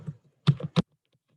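A few quick keystrokes on a computer keyboard, close and clear: one light tap, then a cluster of three sharp clicks a fraction of a second apart, with silence around them.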